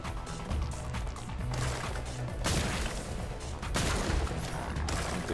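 Rapid grenade launcher blasts in the zombie shooter game Zombotron, a run of dense booming shots with crashing impacts in quick bursts, moderately loud with no talking.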